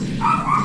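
A dog gives a single short, close bark or yelp against a steady room hum.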